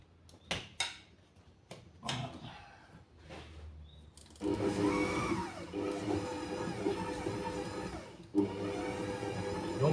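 Several clicks and handling knocks, then a stand mixer starts whirring steadily as it beats butter, flour and sugar, a continuous close motor drone with faint rhythmic churning.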